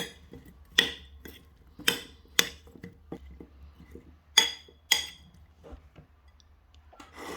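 Food being mixed in a bowl with sunflower oil, a sequence of sharp clinks and scrapes of a utensil against the bowl, with quieter taps in between.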